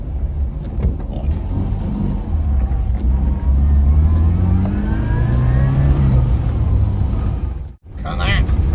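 A 1985 Mini Metro pulls hard in fourth gear, its engine droning and climbing in pitch for several seconds from inside the cabin, then cutting off abruptly near the end.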